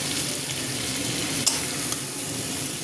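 Mutton and potatoes sizzle steadily while being sautéed and stirred in a pan, a dense close frying hiss with a couple of faint clinks, no voices.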